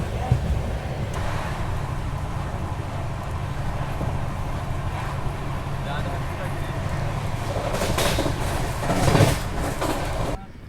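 A Duronto Express train rolls steadily into Vadodara station, with a continuous low rumble and rattle of the carriages sustained throughout, building slightly near the end before dropping off.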